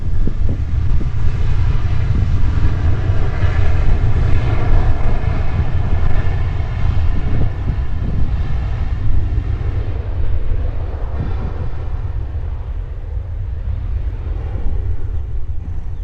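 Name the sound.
Qantas airliner taking off for Sydney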